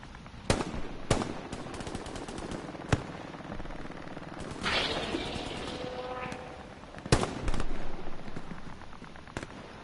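Bursts of automatic fire from the SBT gun in a video game ring out loud and close, several sharp single shots and short rapid strings, with a rattling volley midway and more shots near the end.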